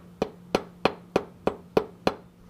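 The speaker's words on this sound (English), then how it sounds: "go ahead and get your socket and fit it over top of the seal and tap it into place" A socket is tapped against a crankshaft seal to seat it in a P11 engine, giving six sharp, evenly spaced metallic knocks about a third of a second apart, close and clear over a faint low hum.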